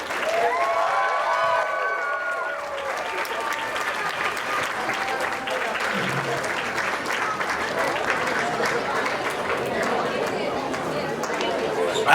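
A crowd at a university international dinner claps steadily and loudly throughout for a lion dance, dense and sustained, with chatter mixed in and a voice speaking over the start.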